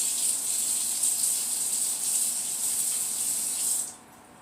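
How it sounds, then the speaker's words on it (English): Kitchen tap water running steadily over a spoon being rinsed, a bright continuous splashing hiss that cuts off abruptly near the end. "I need to rinse my spoon because I don't want to contaminate my yogurt"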